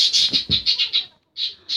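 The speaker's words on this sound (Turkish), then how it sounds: "ben şu kuş da susmak bilmez özür dilerim" A nearby bird in a Minecraft PE survival game calls loudly and shrilly in a quick run of repeated chirps, then pauses briefly before two more calls.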